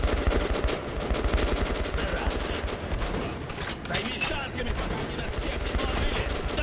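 Rapid automatic gunfire from Metro: Last Light Redux, a continuous dense rattle of close shots with some voice talking over the din.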